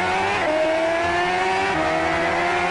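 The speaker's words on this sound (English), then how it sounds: "Here the camera is actually understanding how you're holding the paper and playing the car racing game." A car racing video game plays a continuous engine drone that revs and shifts pitch in steps, steady and fairly loud with no talking.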